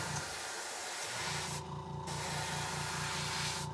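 An airbrush sprays paint onto a fishing lure, a steady continuous hiss with a low hum throughout, briefly cutting out partway and then resuming.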